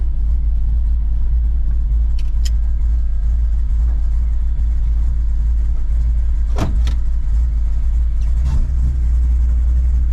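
A bullnose Ford F150 pickup truck engine drives with a loud, steady low rumble that runs throughout, broken only by a few brief clicks and knocks.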